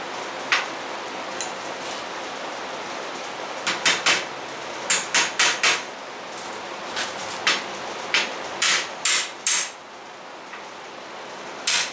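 Metal tapping as a bushing is fitted into the starter of a Ford 9N tractor, with sharp knocks scattered across the clip and loose clusters of several quick taps, close and moderately loud.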